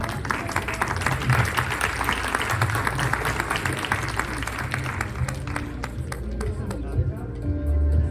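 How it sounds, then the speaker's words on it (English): An audience applauds an inspirational women panel at a business conference, a sustained round of dense clapping that carries on steadily and tails off near the end. "So we're going to big round of applause again for them."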